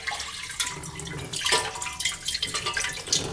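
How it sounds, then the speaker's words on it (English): Water poured out of a sink drain pipe under a kitchen sink during a leak repair, a faint, short splashing and dribbling with scattered drips, close by. "let's pour the water out."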